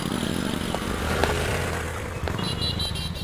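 Raj's motorcycle is wheeled over and its engine runs at a low, steady idle, with faint clatter and a brief rise in pitch near the end. No one speaks.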